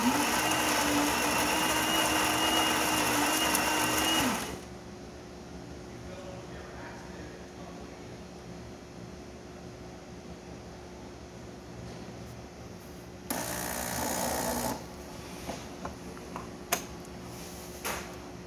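A Saeco Gran Barista Avanti espresso machine pulling a shot: a loud pump whirr for several seconds, then a quieter steady hum with faint drips, and a brief second burst of pump noise near the end.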